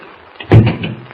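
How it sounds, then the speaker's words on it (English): An apartment door at the Daily Planet setting in a 1941 radio drama shuts with a single short, solid thud and brief rattle, heard alone and fairly close. "Close the door quickly and lock it, will you?"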